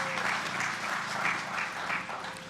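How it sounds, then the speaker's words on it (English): Graduation audience at HLSCC in 2015 applauds the faculty advisors and the chapter, a steady, dense wash of clapping that holds evenly throughout with small swells. "give the faculty advisors and the chapter a round of applause"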